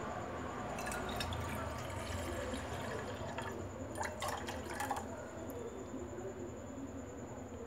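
Water running steadily into a bowl for making iced tea, a continuous trickling and dripping pour at moderate level with a faint background hum and no talk.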